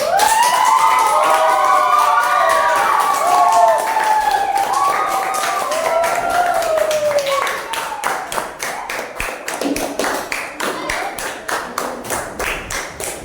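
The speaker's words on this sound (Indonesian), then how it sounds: "tepuk tangan buat kelompok 2" A classroom group claps for a team of students, starting under overlapping voices and a wailing tone before settling into a rhythmic, evenly spaced run of claps toward the end.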